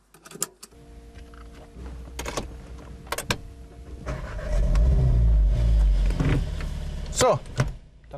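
A Cupra car, a sporty Cup Racing model, pulls away: door and window clicks, then a rising engine rumble as it drives off, close and fairly loud, with brief voices early on.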